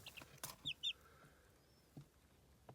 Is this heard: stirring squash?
no